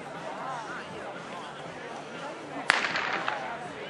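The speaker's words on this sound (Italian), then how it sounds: "lo sparo dà il via a questa gara" A single sharp crack of a starting gun fires at the start of a cross-country race in Onara di Tombolo, Padova. A crowd murmurs in the background before the shot, and a brief burst of cheering follows it.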